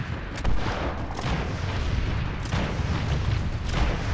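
Ranged gunfire aimed at a rooftop in the video game Planetside 2, a dense, loud barrage of overlapping shots and booming impacts rolling continuously with a few sharper bursts standing out.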